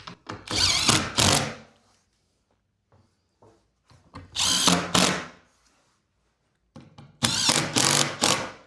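A power drill drives screws into a timber stud wall in three loud bursts, each a second or so of whirring with short pauses and small handling knocks between them.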